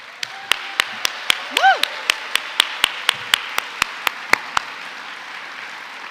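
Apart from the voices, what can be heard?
audience applause at an awards ceremony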